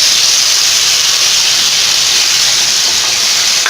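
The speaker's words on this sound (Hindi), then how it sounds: "अब ये जो हमने आलू का बैटर तैयार किया हुआ था ये हमने इसमें ऐड करना है।" Potato batter poured into hot oil in a wok gives a loud, steady, bright hiss that runs unbroken from start to finish.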